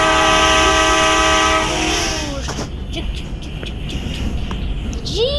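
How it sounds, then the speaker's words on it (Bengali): A train rolls along in the Indian Bike Driving 3D mobile game, its loud sustained horn blaring for about two seconds before giving way to steady rumbling wheels and clatter. "চলো ট্রেন চলে, ট্রেন চলে,"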